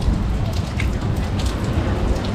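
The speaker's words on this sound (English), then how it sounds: "Really rainy." Steady rain falls over the outdoor Beverwijk Bazaar market in the Netherlands, a constant dense wash of patter with no voices.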